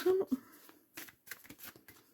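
A deck of tarot cards is cut during a reading, giving a quick, close riffle and slap of cards as someone speaks softly.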